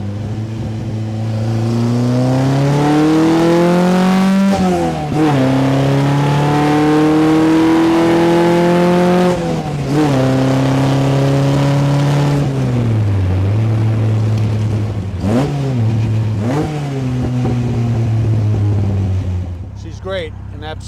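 A 1955 Austin-Healey 100S tribute pulls hard in third gear, its engine note climbing in repeated rising sweeps with brief dips between, loud and close from the passenger seat amid wind rush.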